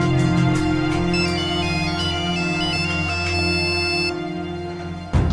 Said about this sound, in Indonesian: Kemudian dia pun mendapatkan beberapa handphone yang telah berdering dalam sebuah ruangan.